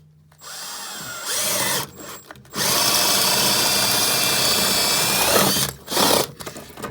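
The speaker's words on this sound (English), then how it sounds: "I'm going to try and get the drill underneath and drill there." A power drill bores into a surface from underneath while mounting outside lights, its whine loud and close in several bursts: a short run, a brief stop, then a long steady drilling stretch ending in a few quick pulses.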